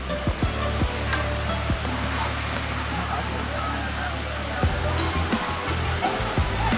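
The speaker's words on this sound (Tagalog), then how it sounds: "Ito yung yung tubig doon sa falls" Water pouring down a waterfall at Bolinao Spring makes a loud, continuous roaring rush, with people talking faintly in the background.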